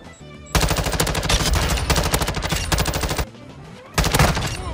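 Rapid automatic gunfire from the 556 Icarus rifle in Modern Warfare 2, loud sustained bursts of shots separated by short breaks.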